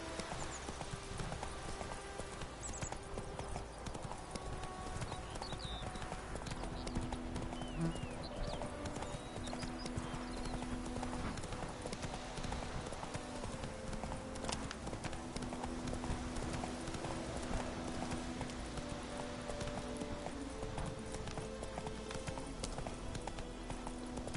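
The horse Roach gallops in The Witcher 3, quick rhythmic clip-clop hoofbeats running steadily throughout over quiet game ambience and music.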